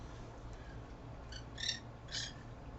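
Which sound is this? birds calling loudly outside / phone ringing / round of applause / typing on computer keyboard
birds calling loudly outside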